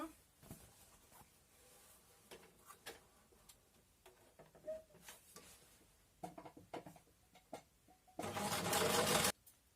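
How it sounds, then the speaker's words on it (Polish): A sewing machine stitches a simple fabric tote bag in short, quiet runs broken by clicks and handling noises, ending in a louder continuous burst of fast stitching near the end. "zamykamy stopkę i szyjemy"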